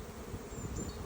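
Honeybee swarm being moved from a wooden nuc box into a plastic hive, a steady low buzzing hum that stays even and close throughout, with no voices.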